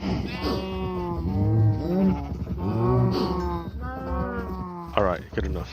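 Pixel-style video game cows moo repeatedly and loudly, several long drawn-out lowing calls overlapping one after another, followed by brief clicks near the end.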